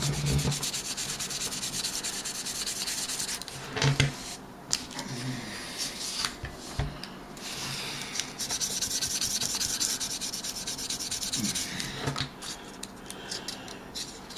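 Abrasive sanding rubs across the metal frets of a Warmoth guitar neck to clear scratches during leveling and crowning, giving a steady raspy scraping with brief pauses and a few knocks, close up.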